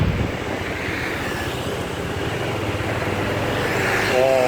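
A Bajaj Dominar 400 motorcycle engine gives a steady, rough drone while riding, mixed with wind rush, continuous and fairly close.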